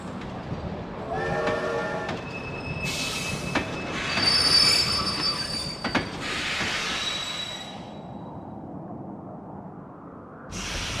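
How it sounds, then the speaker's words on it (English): A magic train in the Kingdom Hearts 2 video game runs through space and time from Twilight Town to a floating tower, with loud squealing wheels, a rolling rumble, bright metallic whistle-like tones and hissing bursts building and fading. "So this train, using magic, travels from Twilight Town through space and time to arrive at a magical floating tower in the middle of an infinite void."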